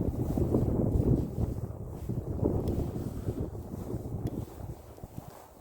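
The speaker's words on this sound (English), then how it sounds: "Wind is blowing a bit." Wind buffets hard against the microphone outdoors in a snow-covered Russian November, a loud continuous low roar with gusty swells and no voices.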